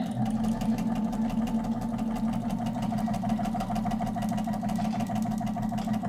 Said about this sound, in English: Now I can sew a little bit more.